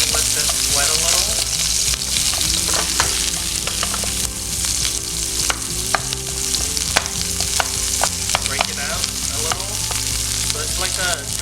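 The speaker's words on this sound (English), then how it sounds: "I'm gonna throw in my onion, and I'm gonna let this sweat a little." Onion sizzles steadily in a smoking-hot pan, a loud continuous frying hiss with occasional stirring clicks and scrapes throughout.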